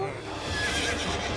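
A horse neighs in a loud, drawn-out whinny close by, lasting about a second; the horse is a fake one worked by remote control, so the call may be artificial.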